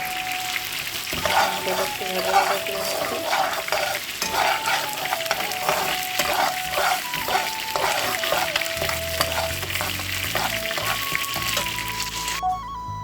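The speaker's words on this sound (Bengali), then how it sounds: "মুগ ডাল ভেজে নিচ্ছি আর হচ্ছে মুরগির গোস্ত ভাজা করে নিচ্ছি" Mung dal and chicken fry in a pan, giving a steady, close sizzle with stirring scrapes throughout and a faint tonal hum in the background.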